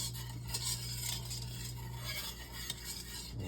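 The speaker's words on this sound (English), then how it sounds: "Mix that up real good." Banana pudding mixture being stirred in a pot on the stove, with a steady scraping and clinking of a utensil against the pan over a low continuous hum, close and moderately loud.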